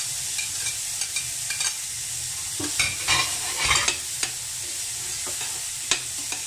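Garlic sizzles in a pan while a utensil stirs it, giving a steady hiss with irregular scraping clatters and a few sharper knocks on the pan, close and fairly loud.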